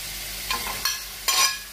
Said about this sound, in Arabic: نزيد ننزل الدجاج ديالي